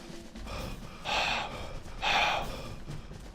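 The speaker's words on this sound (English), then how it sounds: "there's some heavy breathing there, Roman." Two heavy, rasping breaths in the video game Armed and Dangerous, each a loud breathy gasp about a second apart over a low background rumble.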